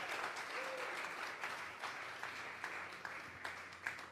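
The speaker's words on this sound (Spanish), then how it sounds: "Vamos a regalarle ofrenda de palmas al Dios de la gloria" A church congregation at a Sunday service claps together as an offering of praise to God, steady, dense applause filling the room for about four seconds.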